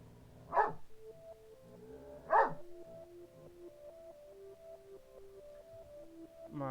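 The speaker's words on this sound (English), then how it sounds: "My dogs decided they wanted to play." Two sharp dog barks ring out a couple of seconds apart while dogs play, fairly close, over soft, steady tonal game music.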